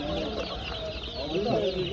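Chickens cluck and chatter at a chicken and chick market, a busy overlapping flock sound under steady background noise with faint talk around it.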